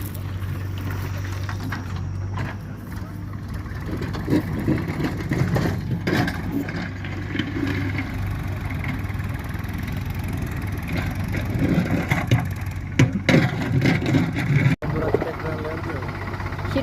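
Farm tractor engine running at a steady idle-like rumble while digging a farm pond, heard fairly close under ongoing speech from someone talking nearby.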